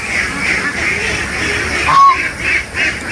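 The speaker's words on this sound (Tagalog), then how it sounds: "Pauwiin ko muna yung mga itik na nakawala doon." Domestic ducks quacking outdoors on a small farm, a few loud nearby calls standing out from a steady background of flock noise, with a couple of sharper quacks toward the end.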